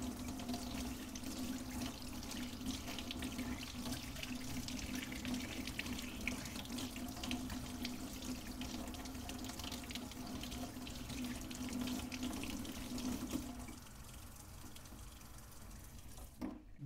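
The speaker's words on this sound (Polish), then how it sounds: "obmyję ją pod wodę, żeby było dokładnie widać te szczegóły, które są wewnątrz obrączki" Tap water running steadily into a sink while a gold ring is rinsed under it, a constant close hiss and splash that thins out near the end before stopping.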